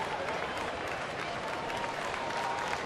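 Ballpark crowd gives a standing ovation as pitcher A.J. Burnett leaves the game in Pittsburgh, a steady distant wash of cheering and clapping at moderate volume.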